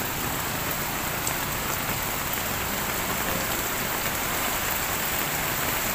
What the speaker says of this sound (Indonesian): Padahal hujan udah mau reda loh,